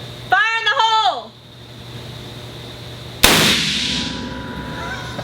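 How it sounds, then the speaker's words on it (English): A homemade RN-50 .50 caliber rifle fires one loud, sharp blast with a long rumbling decay, a couple of seconds after a voice shouts a warning. "I'm about to shoot this and I don't want to die"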